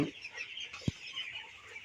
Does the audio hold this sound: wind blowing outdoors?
no